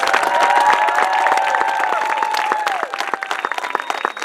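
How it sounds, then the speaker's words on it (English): A crowd at a high school soccer game honors senior players with sustained clapping, cheers and whistles, a long shrill whistle sounding over it before the applause thins into scattered claps. "Let's all give these young men a round of applause as a tribute of thanks."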